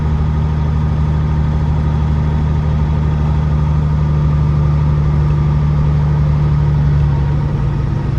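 A tractor-trailer truck of an owner-operator eases down a steep hill into a truck yard, its diesel engine holding a steady, close, low rumbling drone throughout with no talking.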